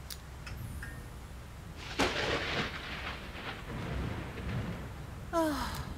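Low thunder rumbles and rain falls during a storm in a French-dubbed Iron Kid cartoon scene, with faint breathy sighs and small effect sounds over it.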